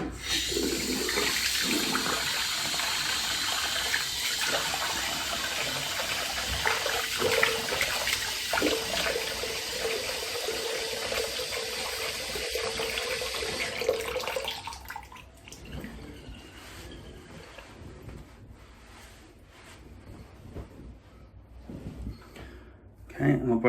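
Water runs from a tap to wet hair, a steady close hiss and splash lasting about fifteen seconds before cutting off, leaving quiet handling noises with brief stretches of a voice speaking.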